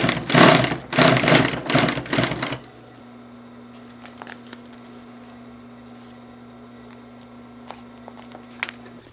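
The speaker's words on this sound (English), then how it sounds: "And now I will fold this over and top stitch it." Sewing machine top stitching a folded-over zipper seam on a duffel bag or backpack, a loud, fast mechanical chatter in several quick bursts, then stopping and leaving a low steady hum with faint clicks.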